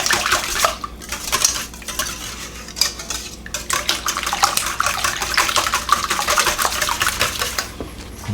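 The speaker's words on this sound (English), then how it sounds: "I like a whisk. I like to just get all this stuff beat up, kind of mixed in a little bit" Breakfast casserole ingredients for a tater tot bake are whisked in a bowl, with a fast, steady clatter of a metal whisk against the bowl's sides, loud and close with brief pauses, and no talking.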